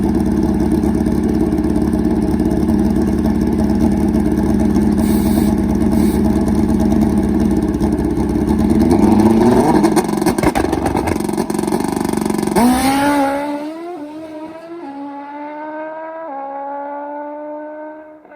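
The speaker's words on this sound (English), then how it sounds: "The Hayabusa body, full fairing, pro stock-like machine." A nitrous-fed Hayabusa-bodied drag bike with full fairing roars loudly at high revs, rising in pitch, then shifts and winds away into the distance as the engine note fades.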